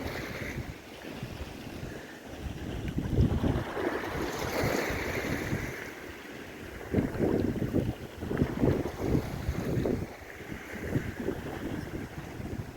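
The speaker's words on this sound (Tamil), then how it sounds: "இங்கே அலை கம்மியாக இருக்குது" Low, gentle sea waves wash in at a shore used for cast net fishing, surging and receding in soft swells beneath steady wind buffeting the microphone.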